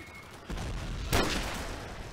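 Gunfire in Call of Duty: Modern Warfare, a sudden jump in level at half a second and then a sharper single crack just after one second over a steady busy game background.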